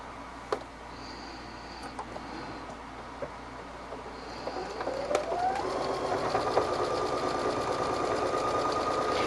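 A sewing machine stitches thin quilting fabric with seam tape as a guide, a soft ticking at first that builds into a steady, continuous rapid whir of stitching, close and clear with no talking.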